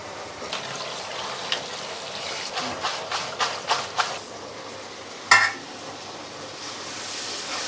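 Onions sauté in oil in a pan with a soft, continuous sizzle, broken by a run of rhythmic scraping stirs and one sharper clatter of utensil against the pan. The sound is close and moderately quiet, with no talk.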